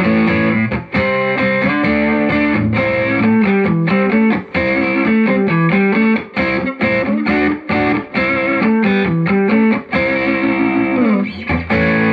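Electric guitar on the neck pickup through a Tube Screamer overdrive into a Fender Deluxe Reverb Tone Master amp with reverb set high, a continuous loud, distorted melodic phrase with sustained notes, played alone.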